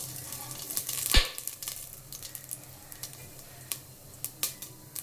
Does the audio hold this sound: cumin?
yes